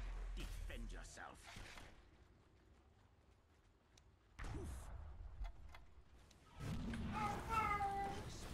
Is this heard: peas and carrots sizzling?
no